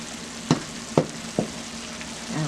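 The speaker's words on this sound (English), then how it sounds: "It's been frying for 2 minutes." A pan of turkey tails seasoned with Maggi, lemon pepper and onion powder sizzles steadily up close, broken by three distinct knocks or stirring clicks about half a second apart.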